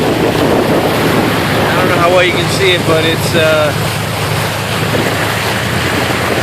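A car drives through roughly foot-deep floodwater covering a street in Sweetwater during Hurricane Sandy in 2012, with a steady rushing wash of water and wind noise throughout while a person talks over it.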